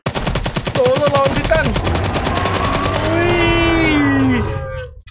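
Rapid automatic gunfire rattles in the LAGA video game, a loud sustained burst of shots at close range, with a voice speaking briefly during the shooting.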